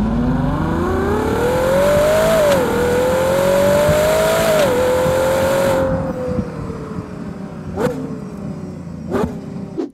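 Sustained, loud engine revving from a very cool car, pitch climbing and swelling over several seconds, then easing back with a couple of sharp blips near the end; no talking.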